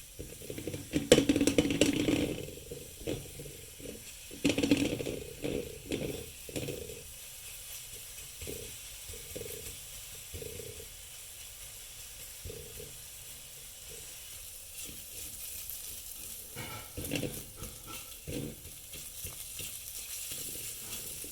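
Garlic stir-frying in a pan for a simple garlic soup, a low sizzle with scraping stirs and clatters, louder in the first few seconds and then settling into a quieter steady frying hiss.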